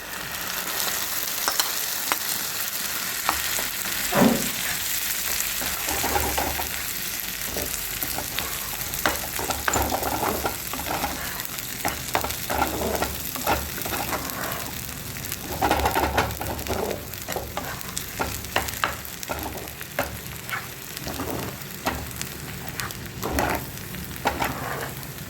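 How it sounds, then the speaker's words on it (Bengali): Onion and ghetkochu leaf paste fry in a pan with a steady, close sizzle and occasional stirring scrapes, while doves coo faintly in the background; no talking. "পেঁয়াজটা একটু হালকা ভাজা ভাজা হয়ে যেতে যেতে আমরা দিয়ে দেবো ওই পাতার পেস্টটা।"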